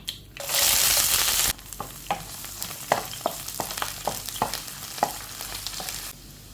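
Shallots, chilies and curry leaves frying in oil with mustard seeds for a Kerala-style raw banana thoran: a loud hiss as they hit the pan, then crackling sizzle and repeated scraping stirs close by.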